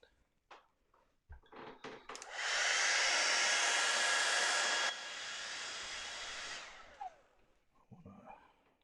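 A hair dryer runs loud and close for several seconds, drying a watercolour painting. Its pitch drops partway through, then it cuts off. Brief handling noises come before and after.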